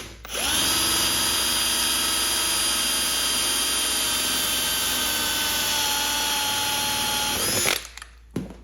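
A power drill spins a stripped threaded insert in a Husqvarna fuel tank at high speed, a loud steady whine sustained for several seconds before winding down and stopping abruptly, close up with no talking.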